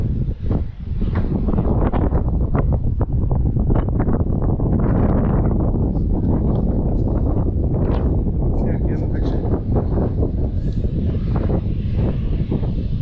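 Strong wind roars and buffets the microphone continuously on the Eagle Trail in Peninsula State Park, Door County, loud and gusty throughout, with people talking beneath it.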